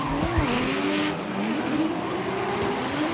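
Drift cars in a D1NZ Pro-Sport Restricted Class grand final at Baypark slide through a corner, engines droning loudly with sustained tire squeal and shifting engine pitch, steady and close throughout.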